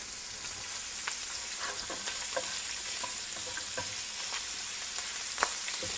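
Shrimp seasoned with chili powder and garlic salt frying in a pan, a steady close sizzle with scattered light ticks and pops as pieces are placed, no speech.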